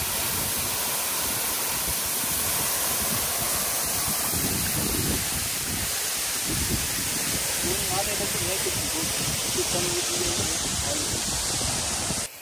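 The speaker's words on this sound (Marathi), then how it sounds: "खूप छान आहे हा धबधबा" A small waterfall trickling beside ice caves with melting snow gives a steady broadband rush of falling water, constant and close throughout, with faint voices at times under it.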